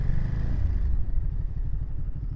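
A 2021 Ducati Monster 939+ motorcycle ridden through stop-and-go city traffic, its engine a low, close rumble with a throbbing pulse that eases off after an initial surge.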